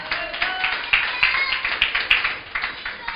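A church congregation claps in a loose, fairly quick rhythm, with sharp individual hand strikes standing out over a busy wash of clapping at moderate volume, with no talking.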